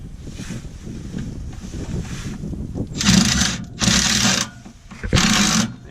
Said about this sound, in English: Take my impact driver